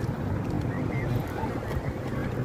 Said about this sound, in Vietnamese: Hình như có chiếc ghe đang chạy ra ngoài kìa.